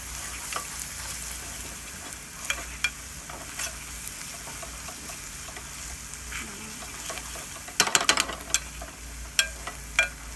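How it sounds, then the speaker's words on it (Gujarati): Garlic chutney frying in a pan while being stirred, a quiet, steady sizzle with scattered clicks of the spoon and a burst of louder scraping near the end, close and without talk. "અને સતત હલાવતા રહેજો."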